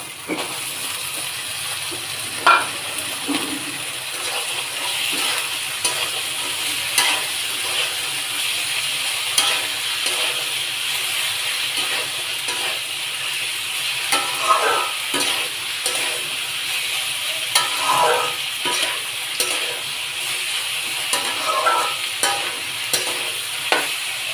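Onion stalks sizzle steadily as they fry in a pan while a spoon stirs them, scraping and clinking in irregular bursts over a continuous hiss, close and moderately loud with no talking.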